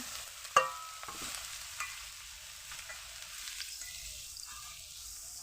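Small shrimp coated in salt and turmeric hit hot oil with a sharp splash and then fry in a steady, fairly quiet sizzle, with occasional faint stirring noises and no voices.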